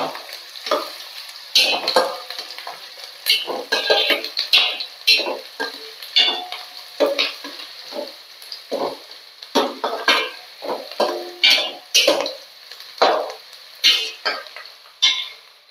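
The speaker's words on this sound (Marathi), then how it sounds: "तर मी आता कांदा छानपैकी भाजून घेणार आहे." Onion stirred and roasted in a pan after a tempering of mustard seeds, cumin, curry leaves and bay leaf: a soft ongoing sizzle is broken by frequent rhythmic scrapes and taps of a spoon against metal, close by, with no talking.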